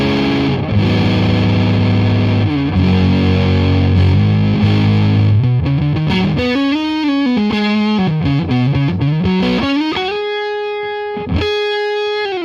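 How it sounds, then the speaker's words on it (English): Electric guitar played through a PastFx Patriarch Fuzz, a Civil War Big Muff variant with its three controls at noon, gives thick, sustained distorted chords and then single-note lines, loud and close with no talking. "Now we have the Patriarch Fuzz here."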